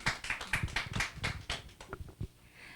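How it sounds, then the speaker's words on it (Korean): An indoor audience at a cultural training academy event in Incheon claps to welcome a speaker, a bright run of even, rhythmic clapping that thins out and stops after about two seconds. "큰 박수로 맞이해 주시기 바랍니다."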